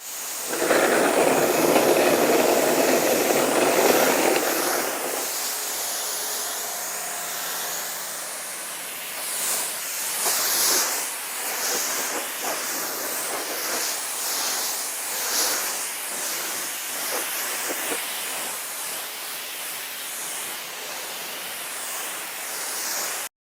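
Water spray rinses down a PT Cruiser from the top down, starting as a loud dense hiss for about five seconds, then continuing as a softer, uneven spatter and wash across the car's body.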